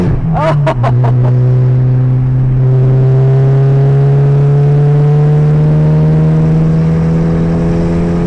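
Mitsubishi Galant VR4 accelerating at part throttle, with a few sharp pops up front and then a loud sustained engine drone that climbs slowly as it bangs against fuel cut.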